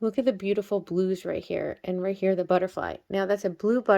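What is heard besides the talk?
No everyday noises stand out.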